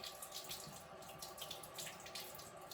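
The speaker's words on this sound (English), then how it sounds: "So I'm just rinsing my grapes off." Tap water runs steadily into a kitchen sink while grapes are rinsed under it, a close, continuous splashing rush with small uneven spatters and no talking.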